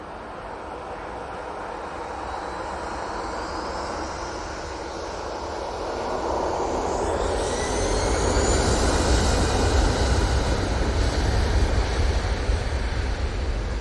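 An easyJet airliner takes off from Manchester Airport, a broad jet engine roar that swells and grows louder through the second half, with rising whine and rushing noise; no voices.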